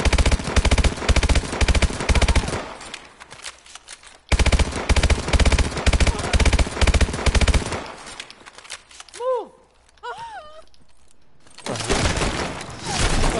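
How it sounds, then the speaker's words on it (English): Video game gunfire rattles in long, loud bursts of rapid machine gun shots with a sharp break between them, then a quieter stretch with a few whooshing effects before the shooting resumes. "I shot him like 4 times."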